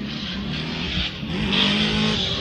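A Mitsubishi Evo drift car in Formula Drift Pro 2 qualifying at Atlanta, engine roaring steadily at high revs with tire squeal layered over it, loud and continuous through the horseshoe section, with no talking.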